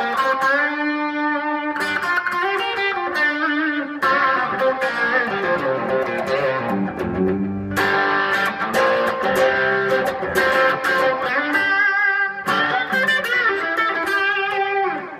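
A custom Stratocaster-style electric guitar on its bridge pickup plays chords and riffs with a bright, slightly distorted tone, continuous and fairly loud throughout, with no voices.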